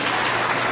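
Dense, steady applause from a studio audience at a 1982 Mexican television variety show, filling the whole short stretch at an even level with no voices over it.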